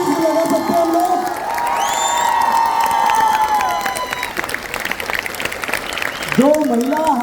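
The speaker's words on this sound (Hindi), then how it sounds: "जबरदस्त एक्साइटमेंट से तालियां बजा सकते हैं हम लोग, चिल्ला सकते हैं हम लोग" An audience at a motivational event claps and cheers loudly, a dense wash of applause with whoops and shouting voices, while a speaker talks over the crowd.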